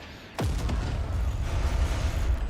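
Secondary explosions in the video game Forts, a sharp blast followed by a sustained, loud rumbling roar of continuing detonations.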